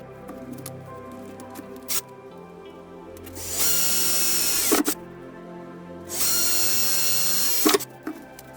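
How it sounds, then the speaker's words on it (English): A power drill whirs loudly in two sustained bursts of a few seconds each, drilling holes while disassembling a Huina 580 toy excavator, with clicks and handling noises before and between them. "we'll drill these holes out so that they're all ready to go"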